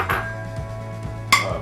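A bowl is fetched beside a Philips Compact Pasta Maker, giving a few close ceramic clunks and a sharp clink near the end over a low motor hum.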